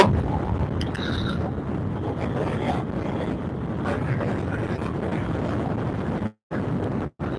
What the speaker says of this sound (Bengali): বাতাসের তীব্রতা এত বেশি